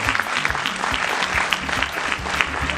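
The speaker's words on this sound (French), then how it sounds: "que vous les applaudissiez" An audience at a graduates' day ceremony applauds, dense steady clapping from many hands filling the room, with no voices over it.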